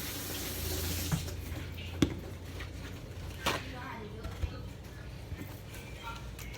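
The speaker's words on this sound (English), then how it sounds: "Let me wash my hands real quick." A kitchen tap runs steadily into a sink while hands are washed, with a few knocks and splashes and a voice talking over it.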